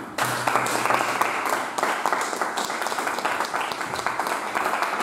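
An audience applauds to welcome Michelle Marie Shockley onto the stage, a loud, dense wash of many clapping hands that holds steady for the whole stretch.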